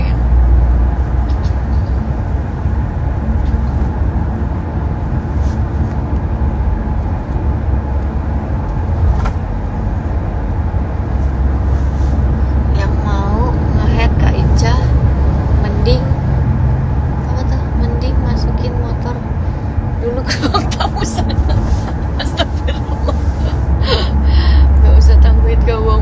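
Interior of a moving car with a steady low road and engine rumble running throughout, heard under near-continuous conversation inside the cabin.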